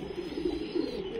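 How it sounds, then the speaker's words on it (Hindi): A Kaldum pigeon coos in a low, steady, continuous murmur close by, with no pauses and no voices. "ये कल्दुमा कबूतर है भाई"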